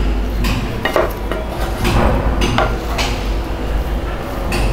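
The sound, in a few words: mixing tomato rice in pan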